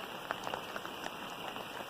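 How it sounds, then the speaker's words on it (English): Steady rain patters outside in the desert, a soft continuous hiss of drops with faint scattered taps, fairly quiet and without voices. "It's raining all night long."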